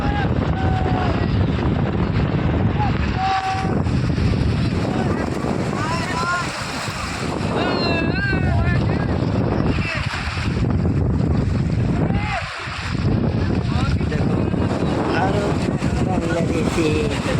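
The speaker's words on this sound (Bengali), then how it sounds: "ব্যাপক ঝড়।" Strong storm wind buffets the microphone over a river in a continuous loud roar, with gusty surges and dips throughout. Voices talk intermittently underneath.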